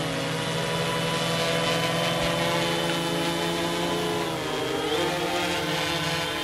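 A Mariner drone's motors whine steadily in a close, constant buzz as it flies, the pitch shifting and rising briefly as it climbs before settling again.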